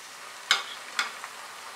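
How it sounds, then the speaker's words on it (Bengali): Spice masala for a dried fish (shutki) curry cooking in a pan after water is added, with a faint background sizzle broken by two or three quick spoon scrapes, close but quiet. "দিয়ে মাঝারি আঁচে মশলাটাকে কষাবো যতক্ষণ না মশলা থেকে তেল বেরোচ্ছে"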